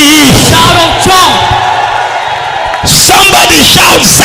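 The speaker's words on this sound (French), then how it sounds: "Poussez les cris. Shout of joy." Church congregation shouting and whooping for joy during a worship service, loud overlapping voices and yells filling the room throughout, with a brief dip before the cheering surges again.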